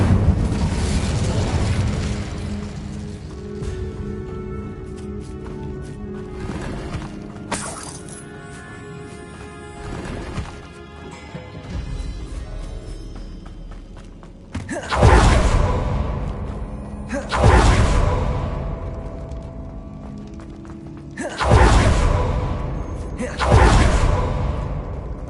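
Fire spell bursts being cast in Hogwarts Legacy, a series of loud whooshing blasts arriving in quick pairs over a dense game soundscape, with a voice heard in the mix.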